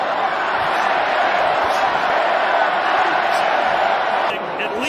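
A large boxing arena crowd roars steadily throughout a Canelo Alvarez versus Gennady Golovkin fight, a dense continuous wash of cheering that dips slightly near the end.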